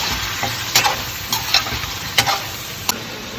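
Chicken karahi with tomatoes cooks in a pan, a dense close sizzle punctuated by several sharp spatula scrapes and taps at irregular intervals.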